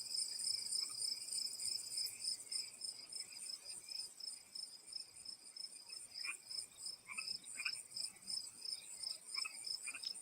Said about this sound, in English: Is that annoying, the crickets?